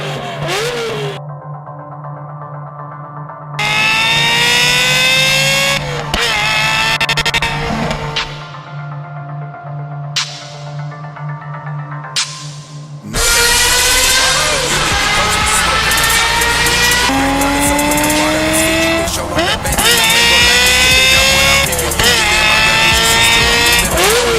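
A Ferrari F355 with a 3.5 liter V8 revs hard and loud, rising high-pitched wails that climb through gears with brief drops between, sometimes quieter and distant, then screaming close in long sustained pulls.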